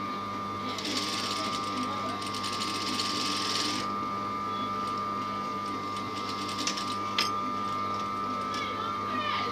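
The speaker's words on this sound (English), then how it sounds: "So all I do is to sew along the guide." A sewing machine with a hemmer foot stitches a hem, a rapid close mechanical whir for the first few seconds, then quieter handling and light clicks.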